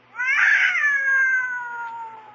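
A cat outside at night lets out a long, loud drawn-out yowl that rises then slowly falls in pitch, heard alone and close.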